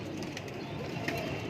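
Pigeons with red eyes, kept as breeding stock, coo softly in a steady low murmur, with a few brighter calls standing out over a constant background hum.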